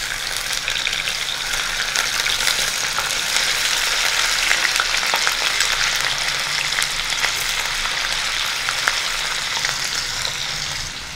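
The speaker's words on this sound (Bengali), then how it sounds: "তেল এবং ঘি দুটোই গরম হতে শুরু করে দিয়েছে। দিয়ে দিচ্ছি পনিরের টুকরোগুলো।" Paneer pieces fry in hot ghee and oil with a dense, crackling sizzle that holds steady and close for the whole stretch, with faint popping and no voices.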